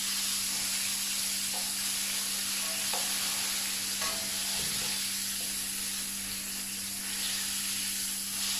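Pork trotter pieces fry in very hot oil, giving a steady, close sizzle and crackle with occasional soft stirring clicks and a constant low hum underneath, with no voices.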